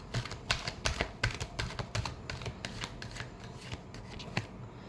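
Tarot cards are shuffled by hand in a quick series of crisp riffling slaps and rubs, close and moderately quiet, with no talk.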